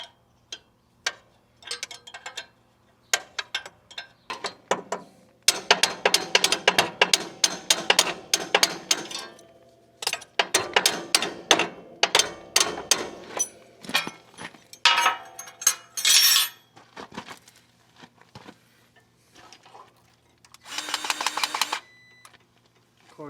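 A 9/16 wrench loosening a bolt on an alfalfa planter, heard as bursts of sharp metallic clicking and ratcheting ticks in irregular runs, close by, with pauses between them and some speech around.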